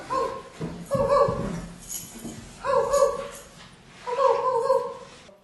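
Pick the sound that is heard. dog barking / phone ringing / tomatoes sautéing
dog barking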